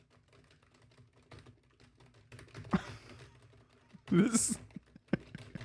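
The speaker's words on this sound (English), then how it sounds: "this is the muted mechanical keyboard" Soft, muffled typing on a muted mechanical keyboard in quick irregular bursts, fairly close, with a brief spoken word and a louder clatter of keys near the end.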